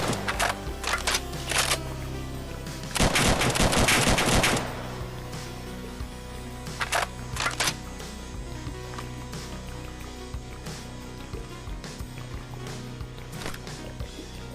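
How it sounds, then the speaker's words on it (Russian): In the Minecraft Bedrock 2067 Warfare mod, an AA-15 automatic shotgun modeled on the AA-12 fires in sharp rapid bursts. A long loud volley comes in the middle, with shorter bursts before and after, separated by quieter game ambience. "В этой же версии я добавил новый дробовик АА-15, реальным аналогом которого является дробовик АА-12"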